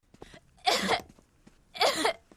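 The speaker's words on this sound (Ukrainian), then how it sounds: "Погуляв з друзями і почав кашляти." Two harsh, raspy coughs, each burst drawn out and loud, separated by about a second of quiet breathing.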